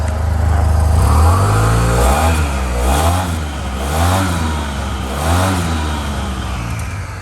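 A 2018 Yamaha TMAX-SX 530 scooter engine revs up several times from idle, rising and falling in repeated swells that sound close and loud, with no talking.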